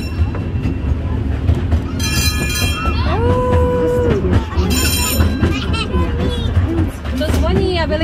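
At LEGOLAND in Germany, a small park train rumbles past a level crossing with wheels squealing and a crossing bell ringing, close and fairly loud, as a voice speaks.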